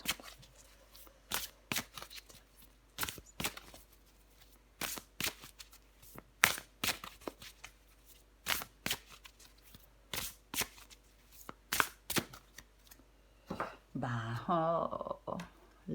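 A deck of tarot cards being shuffled by hand in a series of brisk riffles and taps, close and clear, with a brief burst of other sound near the end.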